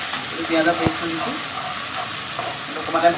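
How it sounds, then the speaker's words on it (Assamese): Onion paste with bay leaf fries in hot oil in a home kitchen, giving a steady sizzle broken by occasional scraping stirs. "অকণমান টাইম ভাজিব লাগিব।"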